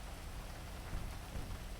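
Steady rain pours in GTA V, a dense continuous hiss of falling drops on surfaces, with no talk over it.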